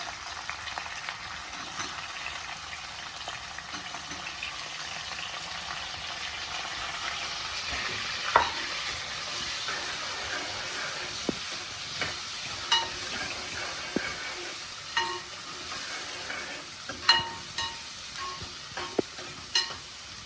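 Garlic and onions frying in oil, a faint, steady sizzle running throughout with scattered soft clicks and taps of utensils growing more frequent toward the end.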